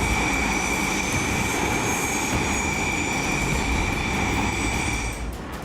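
Sukhoi Su-30 MKI and MiG-29 fighter jets flying over an Indian Air Force forward base near the LAC during an exercise, heard as a loud, steady engine roar with a high whine, fading slightly at the end.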